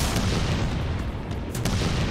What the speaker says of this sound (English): Oh, it's a grenade launcher.